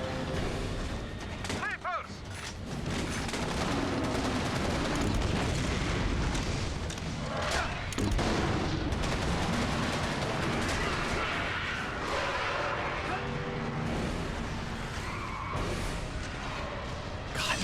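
A charging gun fires continuously in the video game Resistance 2, a loud, sustained roar of booming blasts and rumbling impacts that barely lets up, with a player's voice talking over the din.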